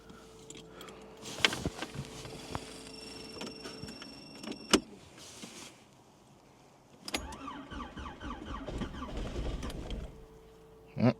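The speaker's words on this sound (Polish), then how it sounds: "Zrobi mi cold start samochodu z poprzedniej epoki, czyli Skoda Felicji." An old Skoda Felicia engine cranks and sputters to life on a cold start, running unevenly after some clicks and mechanical clatter, with a brief voice in the background.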